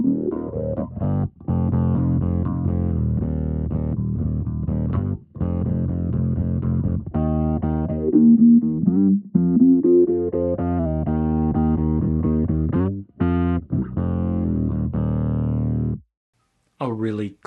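Bass guitar played through a Fractal Audio unit, with an expression pedal sweeping a bandpass filter in and out against the standard tone; a steady, loud line of notes with brief gaps and a short pause near the end.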